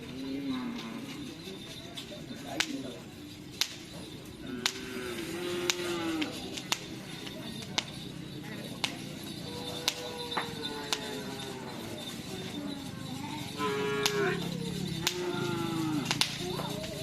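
Cattle moo repeatedly over a busy outdoor background, with several drawn-out lowing calls close by and sharp clicks and clatter between them.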